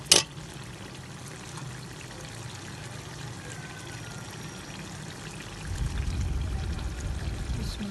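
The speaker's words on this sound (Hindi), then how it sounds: "और अब हम पानी शामिल कर देंगे।" Water pours into a pot of fried chicken and vegetables for biryani, a steady rushing pour rising loudly in the last two seconds after a brief clatter at the start.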